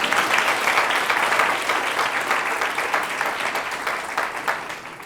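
Applause from a church congregation greeting a guest beside the pastor, a dense steady clatter of many hands filling the hall, loud at first and tapering slightly toward the end, with no talk over it.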